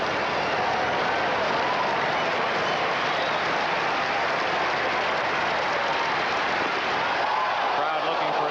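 A large baseball stadium crowd at the 1979 American League Championship Series roars and claps steadily with a pitcher one strike away from a strikeout, a dense unbroken wall of cheering throughout.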